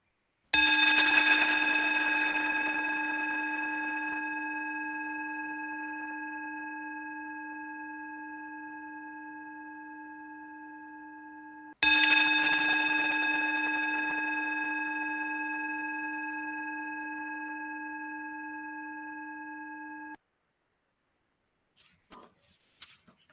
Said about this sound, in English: please close your eyes and listen to the bell as I invite it